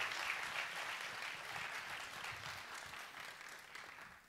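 Audience applause at an open day of a physical education and sports university, a steady wash of clapping from a crowd that holds evenly throughout and tapers slightly at the end.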